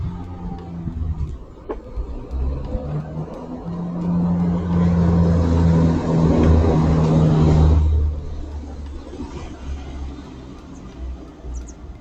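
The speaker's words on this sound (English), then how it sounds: "That's good with cars passing, you get an idea of like louder sounds" Cars pass outdoors, one swelling to a louder, nearer whoosh and engine roar in the middle before fading, with quieter traffic rumble before and after.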